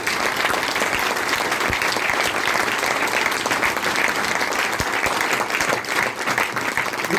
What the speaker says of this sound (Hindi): इस बार आपने दिल से तालियां बजाई।